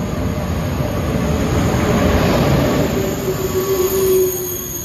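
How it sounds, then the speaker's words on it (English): An SNCF TGV train pulling into a French station, a loud, continuous rumble of wheels on rails with a rising metallic squeal of braking near the end. "The train arrived"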